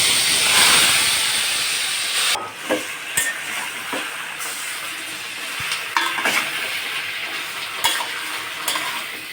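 Chicken pieces poured into hot oil, a loud burst of hissing sizzle that settles into a steady fry, punctuated by sharp clinks and scrapes of stirring.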